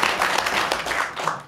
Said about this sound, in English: Please clap it up, absolutely.